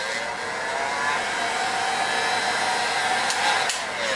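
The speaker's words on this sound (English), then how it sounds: "Heat it with a heat gun on the back side." A heat gun blows a steady, loud, breathy whoosh at close range while shrinking heat-shrink tubing onto a wire, holding a constant tone with a couple of faint clicks near the end.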